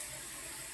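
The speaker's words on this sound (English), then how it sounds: "I forgot to turn the sink off. It's pretty full of water." Water running steadily from a sink tap into a nearly full basin, a continuous soft hiss at low level with no voices.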